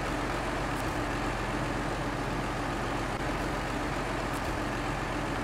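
A heavy truck engine idles steadily in the SnowRunner off-road driving game, a constant loud low rumble with no pauses and no talking over it.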